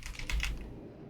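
A few quick keystrokes on a computer keyboard, close and fairly quiet, with a couple of distinct clicks over a low background hum.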